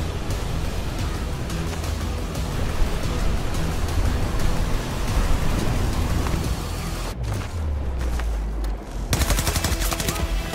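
PP-29 submachine gun in Battlefield 2042 firing in long, dense automatic bursts amid a noisy battlefield, loud and close, with a short pause before shooting resumes; faint voice chatter in the background.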